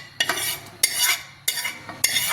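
Roasted besan being stirred into a paneer tikka coating, with four scraping, clattering bursts of a spoon working the mixture in a bowl, close and fairly loud, and no voices.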